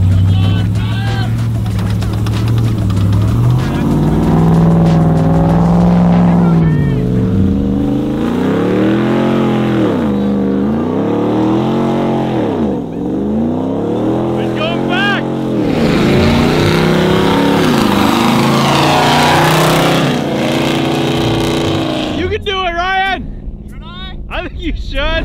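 A 707 hp Ram TRX pickup stuck in mud revs loudly in repeated rising and falling surges, the engine note swooping up and down close by before fading near the end.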